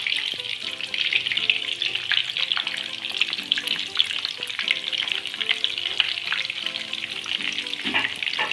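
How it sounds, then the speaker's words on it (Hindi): Crispy potato samosas deep-frying in hot oil crackle and sizzle in a dense, continuous bubbling hiss. It is close and fairly loud throughout, with nobody talking. "चलिए हम अब फ्राई करने के लिए डाल रहे हैं समोसे।"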